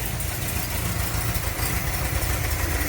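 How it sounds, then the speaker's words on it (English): A van engine idles with a slightly lumpy, uneven rhythm, heard as a close, continuous rumbling drone. "It's running pretty smooth. I mean, a little bit of a lumpy idle."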